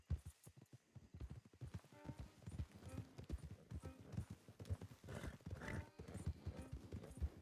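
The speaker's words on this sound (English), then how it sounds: "Don't want the horses clopping around outside the window" Horses' hooves clop on the ground in the Red Dead Redemption 2 video game, a run of close, uneven hoofbeats with a horse's whinny and faint voices mixed underneath.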